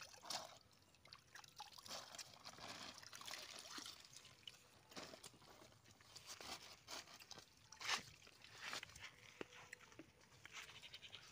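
Water is gently poured at the edge of a fishing spot outdoors, giving a soft, irregular trickling and splashing over a noisy open-air background.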